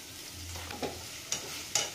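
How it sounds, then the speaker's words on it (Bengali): Onions frying in oil in a pan for upma, with a soft steady sizzle and a few sharp spoon scrapes as they are stirred, fairly quiet and close. "পেঁয়াজটাকে একটু ভালো করে ভেজে নেব"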